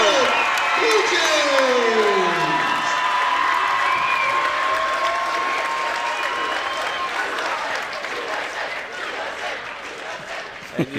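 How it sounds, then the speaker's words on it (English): Big crowd noise at a district final high school basketball game, cheering and applause swelling loudly, then settling into a sustained roar with rhythmic group chanting and a voice talking over it. "And you hear the crowd chanting Blue SA."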